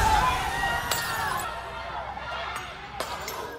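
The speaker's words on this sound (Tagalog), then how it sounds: "Mula sa bubungan, nagpaulan ng mga bato, kahoy, bote at bakal ang mga residenteng yan" Glass bottles shattering among thrown stones and wood during a violent housing demolition in Manila, with residents hurling debris from rooftops at authorities; sharp crashes and clinks break out over a steady background of crowd noise and voices.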